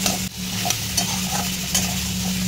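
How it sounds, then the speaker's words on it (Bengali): Onion, potato, carrot, radish and taro fry in a pan while being stirred, a steady close sizzle with a low hum beneath and scraping strokes of the spoon recurring throughout, no voices. "পেঁয়াজ, আলু, গাজর, মূলো, কচু সব কিছু বেশ ভালো মতো ভাজা হয়ে এসছে।"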